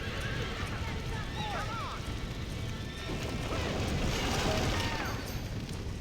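Horses whinny and neigh in a John Marston video game, with rushing wind and hoofbeats under shouting voices throughout.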